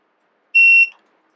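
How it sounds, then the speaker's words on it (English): A TST 507 tire pressure monitor display gives a single sharp electronic beep, about a third of a second long, loud and close, with a brief tail and no other sound around it. "you hit the set button again till it beeps"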